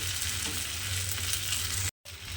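Oil sizzles on a hot tawa in a dense, even hiss close up, cutting out abruptly for a moment before resuming, with no speech.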